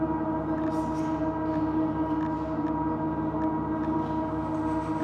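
Pedestrian warning sound of a 2019 Audi e-tron all-electric SUV, a steady synthetic droning hum with layered tones held at an even level throughout, with no talk.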